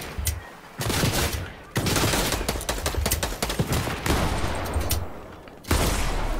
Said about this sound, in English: Nordy, you shooting me